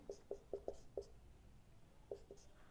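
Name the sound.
writing velocity while explaining acceleration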